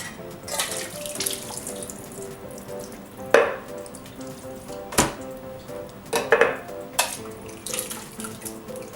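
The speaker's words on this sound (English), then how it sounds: "Again, I like to drain the tomatoes to get some of the water off." Canned tomatoes being drained through a strainer into a kitchen sink give a running, splashing wash of liquid with a few sharper clanks and knocks of the can and strainer, close and alone.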